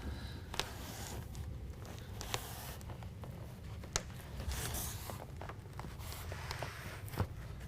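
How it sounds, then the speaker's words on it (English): Adhesive protective backing being peeled off a BedRug Impact bed liner strip in a 2017 Ford F-250 bed; a sustained ripping, zipper-like peel with occasional sharp snaps, close and steady, without talk. "peel off the adhesive protectant and roll this up into place"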